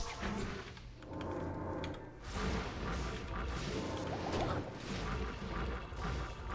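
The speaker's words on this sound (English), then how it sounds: "Also, corpse explosion once again." Corpse explosion skills burst in Diablo 2 amid a dense wash of crashes, thuds and whooshes from combat, loud and continuous with overlapping impacts throughout.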